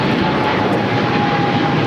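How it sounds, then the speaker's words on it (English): A Japan Airlines Boeing 777-300ER roars loudly on its takeoff run from LAX toward Tokyo Haneda, a dense, close, unbroken blast of jet engine noise. "This is Japan Airlines Flight 15 taking off to Tokyo, Haneda on the 777 300ER."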